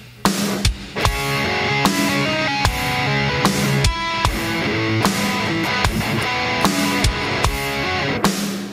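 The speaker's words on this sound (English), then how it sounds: "What you're hearing is a drum loop that I just use as a metronome" A drum loop serving as a metronome thumps along at a steady tempo, its regular kick and snare hits repeating in the foreground with sustained tonal layers underneath and no one speaking.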